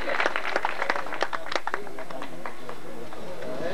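Applause welcoming guests at a gathering, a burst of scattered clapping in the first second and a half that thins and fades into quieter room noise.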